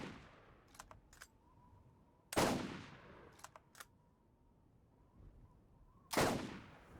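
Sniper rifle shots in a video game, three loud sharp reports spaced a few seconds apart, each ringing out briefly, with quiet clicks between them.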